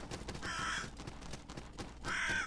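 Two harsh caws from crows in the video game Salt and Sanctuary, each call lasting about half a second and separated by a short pause, fairly close and loud, with no talking.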